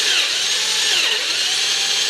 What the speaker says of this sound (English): just drill a hole into the stick